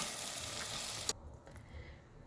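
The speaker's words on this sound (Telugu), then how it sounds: "ఇప్పుడు ఇదంతా బాగా ఫ్రై అవ్వాలి" Sliced ivy gourd fries in a salted pan with a dense, steady sizzle for about a second before it drops away, leaving only faint low kitchen noise.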